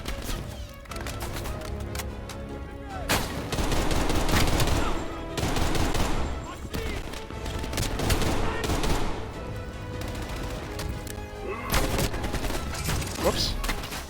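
Semi-automatic weapon fire in Call of Duty Black Ops Cold War, dense continuous volleys of shots and battle noise throughout, loud and busy with overlapping gunfire.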